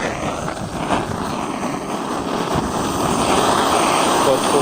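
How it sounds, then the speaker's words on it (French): A gas blowtorch burns with a steady, loud roaring hiss, heated against a crimped revolver barrel from a Remington 1858 replica; the broadband rush holds evenly throughout and swells slightly toward the end. "Et ben j'allume le chalumeau, je teste."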